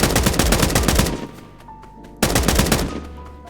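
Rapid full-auto bursts from a heavy gun in the video game Escape from Duckov, two loud sustained volleys separated by a short gap, close and forceful with no talking.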